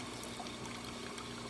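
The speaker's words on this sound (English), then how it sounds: "water flow coming out from the frother, working perfectly fine." Water streams steadily from the frother wand of a Gaggia Academia espresso machine, a continuous close hiss and trickle with a low pump hum, even in level and without talking.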